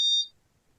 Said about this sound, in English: Sorry about that beeping. It's going to stop soon.